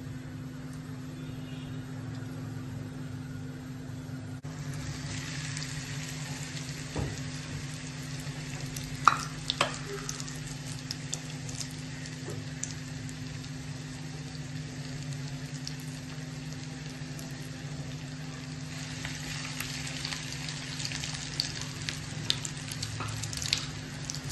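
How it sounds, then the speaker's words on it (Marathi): Breaded mutton chops, dipped in egg and crumbs, fry in hot oil in a heated kadhai with a steady, moderately quiet sizzle and occasional small pops, with no talking. "अंड्यामध्ये घालायचे आणि त्याच्यानंतर ब्रेड क्रम्स मध्ये घालून तेलामध्ये सोडायचे."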